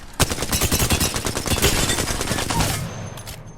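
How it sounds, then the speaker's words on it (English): Video game gunfire from hip firing a weapon at a training dummy in Pathfinder, a dense, loud automatic burst of rapid shots lasting about three seconds, then cutting off. "And I'll do the hip fire thing again on the dummy."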